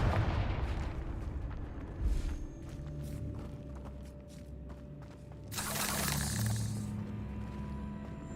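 A Confringo fire-spell blast in Hogwarts Legacy erupts with a loud, bright burst midway through, set against ongoing game rumble, faint footsteps and scattered thuds of combat, with no one talking.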